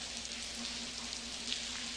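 Steady rain falling in a video game, an even, soft hiss throughout with a faint low hum underneath and no voices.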